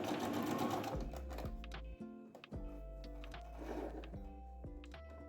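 A foot-pedal-controlled sewing machine stitches down the edges of fabric for a tote bag, humming in close, loud runs that speed up and slow down, broken by short pauses and clicks.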